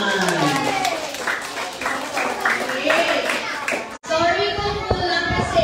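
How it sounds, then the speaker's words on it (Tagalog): Children clap together for a storytelling session, a steady patter of small hands mixed with excited kids' voices, briefly cut off before clapping and chatter resume. "Palakpak naman!"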